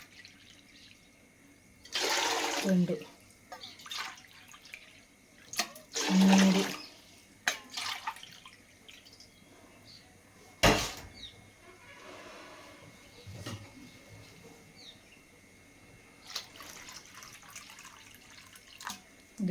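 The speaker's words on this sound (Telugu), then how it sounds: "1 గిన్నె బియ్యం పిండికి 6 గిన్నెలు వాటర్ వేయాలి." Water is poured into rice flour for making rice-flour vadiyalu, arriving in two loud splashing bursts separated by a pause. Clinks of vessels and a few faint spoken words follow.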